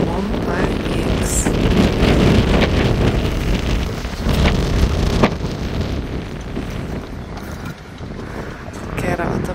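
Strong wind buffets the microphone at a Malta cliff viewpoint, a loud continuous roar with gusty swells that eases slightly near the end, and a voice talks faintly beneath it.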